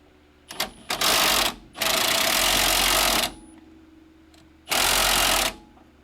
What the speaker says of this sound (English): It's this piece that the impact wrench is hooked into.